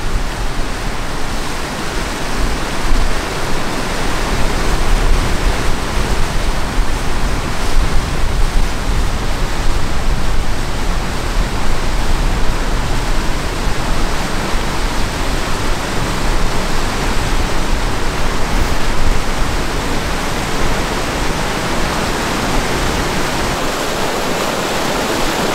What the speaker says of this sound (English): We got to cross a creek immediately.